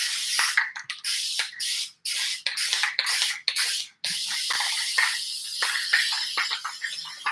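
Spray paint can hissing in repeated short bursts as a light coat goes onto canvas, close and fairly loud, with brief gaps between strokes and a steadier softer spray toward the end.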